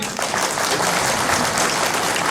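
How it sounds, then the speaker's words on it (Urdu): Sustained, dense applause from an audience at a housing project launch event in Quetta, loud and steady throughout with no pause. "ایک بار اپنے لیے بھرپور تالیاں بجا دیں"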